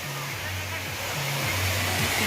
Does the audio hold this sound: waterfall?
yes